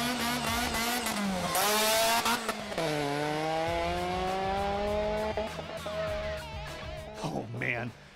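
Supercharged Ariel Atom lightweight sports car accelerating hard, a loud high-pitched engine whine climbing through the gears with shifts, close and dominant, with people talking over it.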